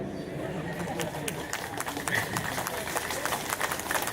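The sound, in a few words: audience clapping at a rally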